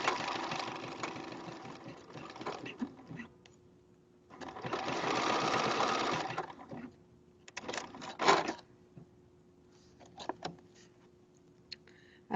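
A sewing machine runs in several bursts, stitching elastic casing on pajamas with a multi-step zigzag stitch. It hums steadily at close range with brief pauses between runs.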